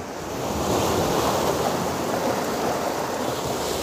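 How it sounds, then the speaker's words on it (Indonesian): Surf roars steadily as waves roll in and wash up the shore at Tunggul Buto Beach, a broad continuous rush with some wind noise and no voices. "Ombak yang bergulung-gulung dari tengah ke tepi"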